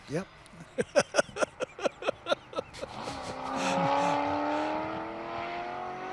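Touring-class race cars, including Hugh Stewart's BMW, lap a circuit at the 2024 SCCA National Championship Runoffs. An engine note climbs steadily in pitch in the background while a commentator talks over it.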